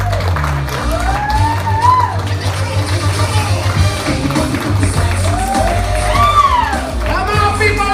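A comedy club audience cheers, whoops and shouts for the headliner, and a host's amplified voice carries over the steady crowd noise.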